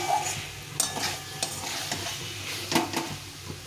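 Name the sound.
potatoes and pointed gourd being stir-fried in oil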